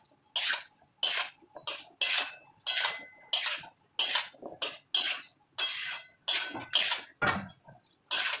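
A hand mixing maya fish and potatoes with spices in a bowl makes close, regular wet squelches and slaps, about a dozen strokes in a steady rhythm with brief pauses between them.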